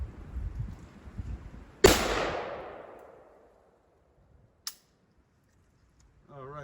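A single loud gunshot from a Polish-variant AK-47 rifle cracks outdoors at a ranch and decays into a long echo, followed by a brief sharp second report, with faint talk before and after.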